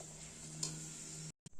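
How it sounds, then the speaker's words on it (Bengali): Luchi, puffed flatbreads, frying in hot oil in a home kitchen give a faint, steady sizzling hiss with a low electrical hum beneath, then abruptly stops. "চলো এরকম করেই লুচি সবগুলো ভেজে নিই"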